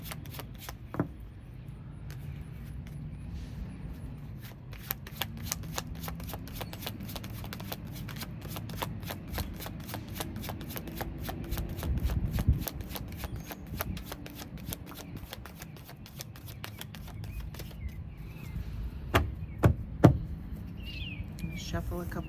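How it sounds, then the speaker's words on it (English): Tarot cards riffle and shuffle in quick bursts of crisp slapping clicks, repeated many times over a low background hum, with a few louder snaps near the end. "Shuffle a couple of times"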